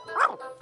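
A cartoon dog barks twice, a short loud yelp followed by a second sharp bark after a brief pause, close and clear with no talk over it.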